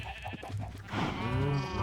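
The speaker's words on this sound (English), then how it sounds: "there's a sheep here, but I just can't get him" Sheep bleating in the Minecraft video game, a drawn-out wavering bleat that swells in the second half over a steady background of game sound.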